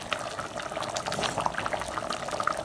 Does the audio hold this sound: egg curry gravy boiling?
yes